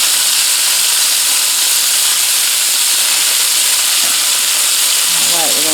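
Turkey breast steaks dredged in flour searing in a hot pan, a loud steady sizzle and hiss filling the whole stretch, with a voice briefly audible near the end.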